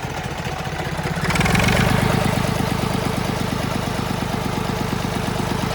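A tractor diesel engine running on diesel mixed with petrol chugs at idle, then revs up and holds a steady, loud, rhythmic throb close by.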